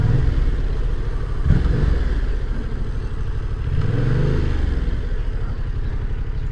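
A motorcycle engine drones steadily close by, rising and falling in pitch as it revs while riding, with some rattling clatter.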